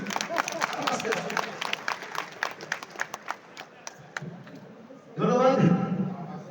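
An audience claps loudly, with rapid, dense clapping that thins out and stops. A voice then starts speaking.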